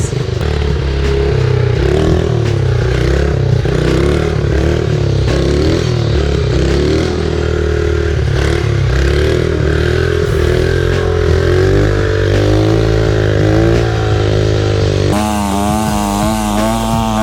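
Small pit bike engine running continuously and loud, a raspy buzzing drone that wavers in pitch and stumbles slightly as if running rich, with a change in tone toward the end.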